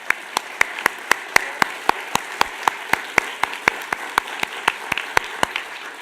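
A small gathering claps for a guest at a closing event, with separate, evenly spaced claps about four times per second, sounding like only a few people applauding steadily and fairly close.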